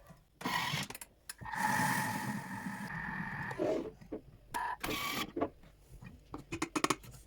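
A Thermomix running while millet cooks in water, giving a motor whir and rumble that cuts in and out in several bursts, with clicks and knocks between them.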